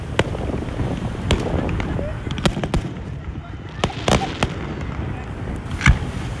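Coney Island Friday fireworks burst in a rapid series of sharp booms and cracks, some distant and some louder, over a steady background of crowd noise and wind.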